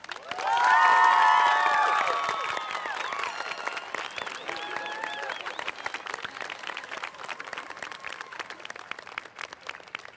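Applause and cheering for a graduating high school class at a 2024 graduation ceremony, opening with loud shouts and whoops over the crowd, then settling into sustained, moderately distant clapping from a large audience.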